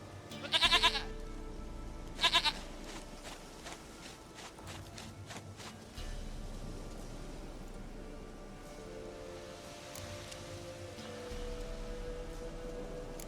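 Goat in The Witcher 3 video game gives two short bleats close by, then a soft patter of steps and faint game ambience with a low background drone.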